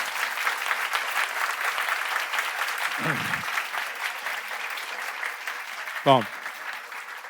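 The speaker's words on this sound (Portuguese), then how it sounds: "Então, um aplauso," A lecture audience applauds in a hall, producing a continuous even patter of many hands. Someone briefly speaks over the clapping near the end.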